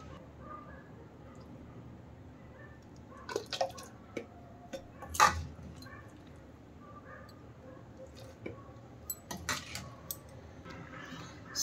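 Green chilli pickle, made with salt, oil and lemon, is spooned into a clean container, giving sparse metallic clinks, taps and small wet drips against a quiet room background with no talking.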